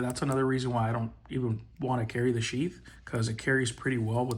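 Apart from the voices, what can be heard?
No everyday noise stands out behind the speech.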